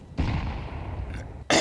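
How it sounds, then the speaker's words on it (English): A grenade thrown in Counter-Strike 2 on the Nuke bomb defusal map: a single loud burst with a drawn-out rumbling tail, then a sharp second blast at the very end. "Throwing a grenade."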